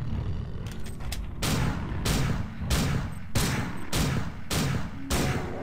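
Repeated gunshots from the player's weapon in System Shock 2, a run of about eight evenly spaced bursts at close range, each with a short decaying tail, no talk.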